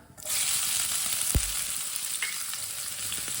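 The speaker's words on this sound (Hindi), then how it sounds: "प्याज को हल्का सा ब्राउन कर लेंगे" Finely chopped onion frying toward light brown in oil, a dense steady sizzle that swells in quickly and holds, with one brief low knock and a few faint scrapes, close by and no talk.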